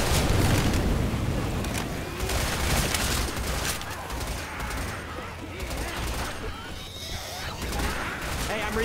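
A grenade detonates in the Left 4 Dead 2 zombie shooter during a custom Red City campaign map, a heavy blast rolling into dense gunfire and chaotic combat noise, with players talking over it.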